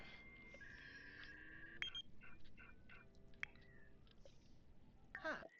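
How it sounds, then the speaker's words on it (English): Several phones ring and beep in a Sims 4 household, short electronic tones and chirps popping up one after another at low volume over quiet babble-like game chatter. "Everybody's phone is going off."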